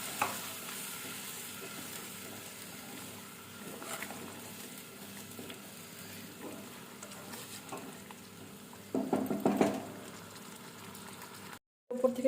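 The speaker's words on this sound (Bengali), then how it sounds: "এতে এবার আমি দিয়ে দিচ্ছি সামান্য জল।" Water poured into a hot pan of Afghani egg curry sets off a brief louder sizzling hiss over steady frying and stirring; the sizzle cuts off abruptly near the end.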